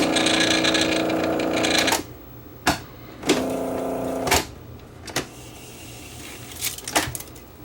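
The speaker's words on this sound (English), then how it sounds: "Almost sounds like a rubber idler that's got a flat spot on it" A vintage Sony TC105 mono tape recorder with a faulty motor runs with a loud, harsh mechanical whirring that stops abruptly, followed by scattered clunks and knocks and a fainter uneven running noise.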